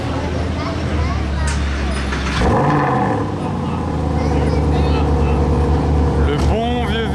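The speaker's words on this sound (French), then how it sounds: "Le bon vieux V8, un autre V8 ici." Loud V8 supercar engines roar and pass close by in a busy street, a deep engine swell rising mid-way with another surge of revs near the end, constant traffic and crowd noise beneath.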